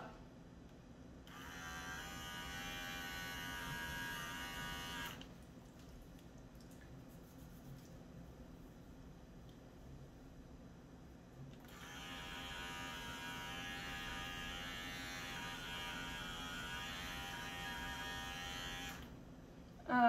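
Electric clippers buzz while trimming a sensitive poodle's face at home, two steady bursts of several seconds each with a quiet gap between, close and fairly loud.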